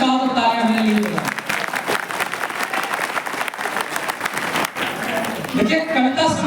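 Audience applause at a Hindi poetry gathering (kavi sammelan) held in a pavilion in Bhojipura, a dense sustained clapping from a large crowd that swells and holds steady, with a voice speaking over it at the start and end.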